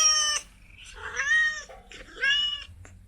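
A cat meows three times in close succession, clear and fairly near, with rising and falling drawn-out cries and no talking over them.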